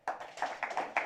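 A few hands clapping in a round of applause, about five distinct, fairly quiet claps in an uneven rhythm over roughly a second.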